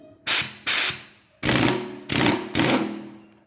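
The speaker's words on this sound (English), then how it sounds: "This is not a super huge impact wrench, but we're going to try it just as it stands." An impact wrench removes a bolt on a 60 hp Mercury 4-stroke outboard during a timing belt change, giving five short, loud, hammering bursts in an uneven rhythm, close up and without speech.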